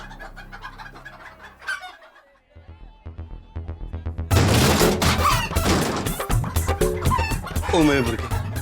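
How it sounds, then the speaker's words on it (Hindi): Rooster clucking and crowing amid a lively household scene. Loud, repeated bird calls rise over a busy background with people talking, near and energetic, after a quieter stretch with music-like tones. "ओ मेरे मुर्गे, कितना भगाएगा मुझे?"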